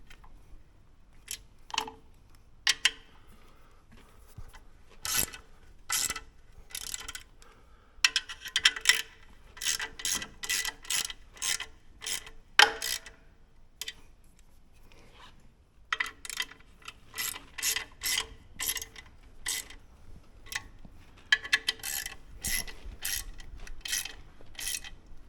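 A hand ratchet snugs down tractor clutch bolts in a series of fast, crisp clicking bursts, nearby and fairly loud, separated by short pauses and faint handling noises.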